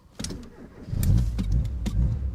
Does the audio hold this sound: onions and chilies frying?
no